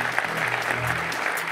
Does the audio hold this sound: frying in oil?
no